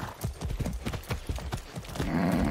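Horse hooves clip-clop in Far Cry 6, a steady rhythmic series of close, fairly loud hoofbeats with no talking.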